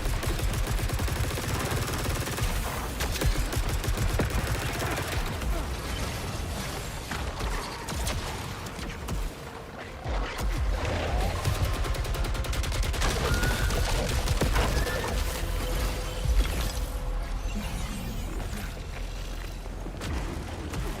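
Continuous rapid gunfire from a tactical rifle spraying shotgun-like pellets in the video game Saros, dense booming bursts running without pause over game effects.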